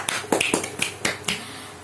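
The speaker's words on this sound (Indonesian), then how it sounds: "tepuk tangan untuk kelompok 3" A few scattered claps from a classroom during a micro-teaching religious education lesson, irregular and sparse rather than sustained, fairly close with no talking over them.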